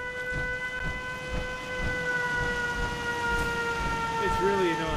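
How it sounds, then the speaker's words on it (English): A steady wailing siren in Fallout 4 drones on continuously near Nuka Town, USA, its sustained pitched tones holding loud throughout with low rumbling underneath. "I really wish I'd taken that siren down."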